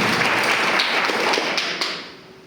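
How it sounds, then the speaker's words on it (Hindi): Seminar audience at a City Hotel in Dhaka bursting into hearty applause, loud dense clapping that carries on and then fades away toward the end. "एक जोरदार ताली होना चाहिए"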